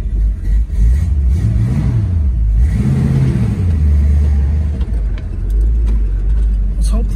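A 1964.5 Ford Mustang convertible's engine rumbles low and steady while driving, swelling briefly as it revs, with someone talking over it throughout.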